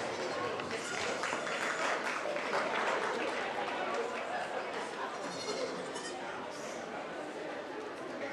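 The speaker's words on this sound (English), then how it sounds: "Let's give these two a round of applause." At a 4-H goat show at a county fair, an audience applauds the two placing exhibitors. The clapping is steady and moderate throughout, with goats bleating and people talking in the background.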